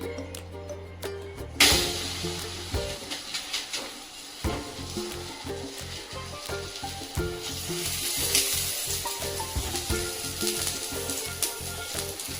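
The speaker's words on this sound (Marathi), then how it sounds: "आता आपण तव्यावर तेल घालून घेऊया." Dhapate flatbread cooking in oil on a hot griddle, a steady sizzle with a sharp burst as the dough goes on, then crackling and rhythmic scraping or pressing.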